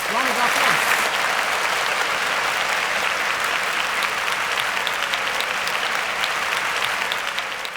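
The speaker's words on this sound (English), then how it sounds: "Round of applause." A studio audience at a televised quiz show bursts into sustained, loud applause with a few whoops, staying dense and even throughout.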